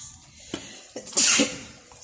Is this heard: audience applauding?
no